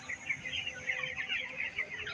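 Many broiler chickens cluck and chatter together in a steady, busy flock murmur, with no talking over it.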